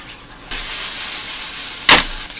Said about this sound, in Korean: 이게 전체적으로 풀어질 수 있게 막 볶아주세요.